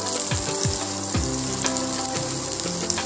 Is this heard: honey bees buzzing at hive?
no